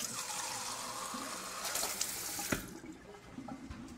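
Alkaline ionized water streams from the tap of a Kangen water ionizer into a sink, a steady close splash that cuts off partway, leaving a few faint drips.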